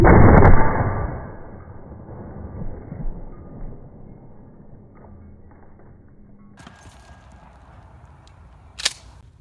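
A single 12-gauge shotgun blast firing 2 3/4 inch birdshot at a board from 8 yards, loud and sharp at the start, then a long decaying echo and a faint click near the end.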